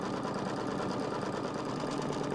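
An embroidery machine stitches a tack-down pass, fastening fabric onto no-show mesh stabilizer, with a steady, fast, even mechanical whir close by and no talking.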